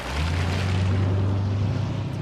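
A huge 6.75-litre V8 car engine accelerates with a deep, steady droning rumble that holds loud and even for about two seconds, then eases slightly, with no talking.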